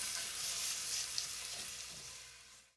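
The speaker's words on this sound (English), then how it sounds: "The onions have been frying for about 5 or 6 minutes" Onions sizzle in a hot pan for a Goan fish curry, a steady close hiss of frying that fades out at the end.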